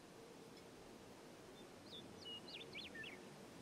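Birds chirp in the video game Captain Spirit, a few faint, thin tweets in quick succession rising over a steady soft ambient hiss.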